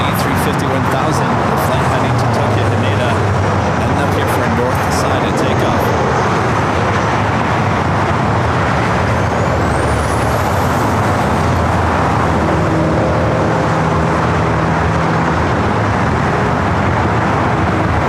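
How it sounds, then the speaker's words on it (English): An airliner taking off at LAX airport in Los Angeles, a loud continuous jet roar that rises and sweeps over the full length, with someone talking throughout. "Flight heading to Tokyo Haneda, heading up here for a north side of takeoff."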